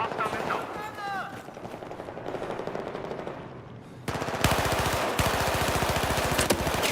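Rapid automatic gunfire from a weapon in the video game Battlefield, steady machine-gun bursts that get louder and denser partway through, with a voice talking underneath.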